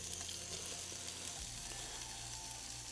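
Potatoes sizzling as they brown in a single layer on the bottom of a pot for Korean braised potatoes, a steady close frying hiss with faint stirring underneath.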